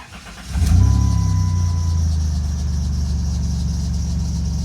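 A 1996 Dodge Grand Caravan SE's 3.3 V6 with a bad belt tensioner runs close by at a steady, loud idle, a low engine drone that holds level after it catches, with no talking.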